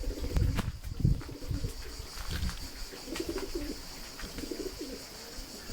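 Low, throaty cooing from pigeons repeats in a steady rolling pattern, fairly soft, after some brief bumps and rustles at the start.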